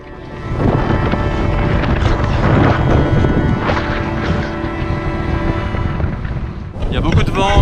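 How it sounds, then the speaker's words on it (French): Strong wind blowing sand in Iceland near Vatnajökull roars and buffets the microphone continuously, a dense rushing blast with gritty hiss throughout and a brief gusty flare near the end. "Il y a beaucoup de vent, beaucoup de sable qui s'infiltre partout."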